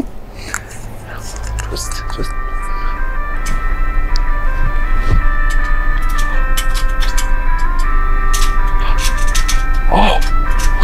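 An ice cream truck plays a tinkling melodic jingle that grows louder and steadier. Scattered clicks and short noises sit over a low rumble, and a voice comes through briefly.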